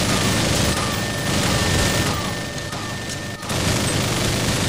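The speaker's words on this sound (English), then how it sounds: "There's another minigun." Sustained automatic gunfire from a minigun in the video game R.I.P.D. The Game, a dense continuous roar of rapid shots with a brief dip near the end, loud and close with no talk.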